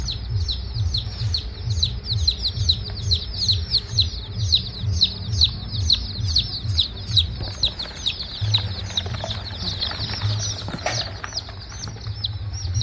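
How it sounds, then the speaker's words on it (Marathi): A brood of about 65 turkey chicks on a poultry farm chirping nonstop in rapid, high overlapping peeps, close and busy, with soft rustling and a low hum beneath. "हे आहेत टर्कीचे पिल्ले"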